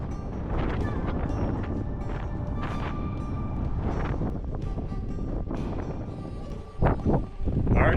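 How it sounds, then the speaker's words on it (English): Strong wind buffets the microphone in gusty, rumbling waves while hiking among the cliffs of Canyonlands, loud and close throughout with brief lulls. "because it is windy"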